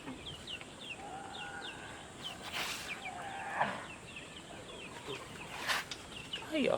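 Hungry farm chickens cluck in short, repeated bursts, close by, with higher chirps from other birds in a backyard pen of chickens and quails, over a constant low background.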